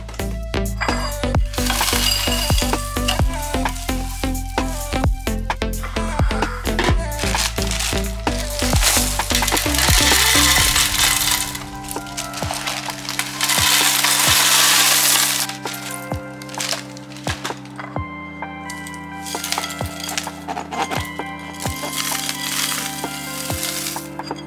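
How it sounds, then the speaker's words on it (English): Dry cereal and breadcrumbs pour and rattle into pantry containers in a home kitchen, with scattered clinks and crackles and a denser rushing pour midway, all over steady background music. "I do go ahead and refill some of our pop containers from our pantry"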